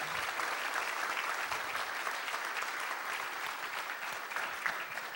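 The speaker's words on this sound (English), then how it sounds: "let's welcome everybody with a warm applause and warm welcome" Audience welcoming a panel at an educational equity event with warm, continuous applause, a dense, steady patter of many hands clapping in a room, close and unbroken for several seconds.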